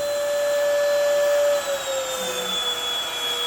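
An Inse N370 cordless stick vacuum runs steadily with a high-pitched motor whine that dips slightly in pitch partway through, loud and close with no talking.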